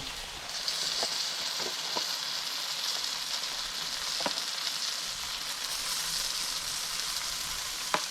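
Baby back ribs sizzle on a Big Green Egg grill with a steady, close crackling hiss and a few sharp pops and ticks scattered throughout, no talking.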